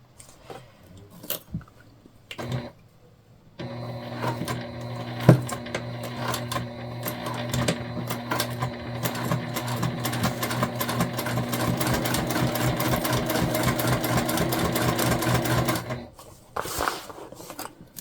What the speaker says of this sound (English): So I'll show you what I mean when we sew this together.